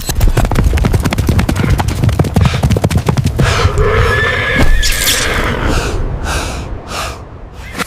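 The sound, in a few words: horse neighing and galloping, sound effect in story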